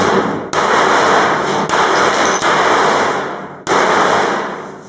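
Dent being hammered out of a steel Ford F150 truck hood, with four sharp, loud metallic blows spaced irregularly, each followed by a ringing decay, and no talk.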